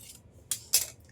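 Two short, crisp snips come close together as the fabric for a prince-cut blouse is cut. There is near silence around them and no talking.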